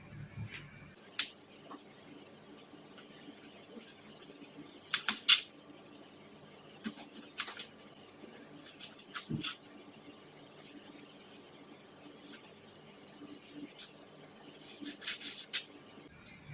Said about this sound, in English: First, let us cut this raw onion.